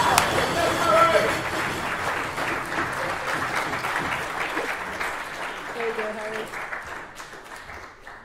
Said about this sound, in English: Harry gets the applause and the first prize as well for enthusiasm